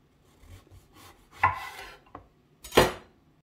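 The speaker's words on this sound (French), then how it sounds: "Je vais couper mes aubergines comme ça et on se retrouve tout de suite." Eggplants being cut with a knife on a cutting board, a few spaced chopping strokes with a sharp thud and scrape, close and clear with no talk.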